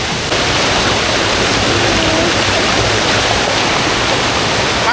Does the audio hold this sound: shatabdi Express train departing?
no